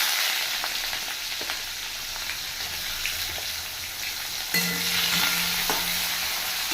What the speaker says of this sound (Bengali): এবার আমি কিছুটা পেঁয়াজ কুচি দিয়ে দেবো।